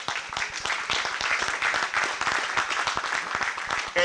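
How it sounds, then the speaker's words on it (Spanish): Brisk audience applause at a tango homage concert in a cultural centre: many hands clapping in a steady, crowded patter at moderate loudness. "Pueden comenzar a aplaudir."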